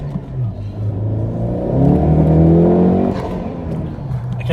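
A 10th-generation Honda Civic with a PRL Cobra cold air intake and manual gearbox accelerates hard, its engine note climbing steadily in pitch and loudness to a peak before easing off, heard from inside the cabin with windows up.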